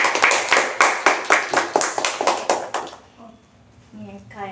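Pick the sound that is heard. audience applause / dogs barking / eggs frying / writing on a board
audience applause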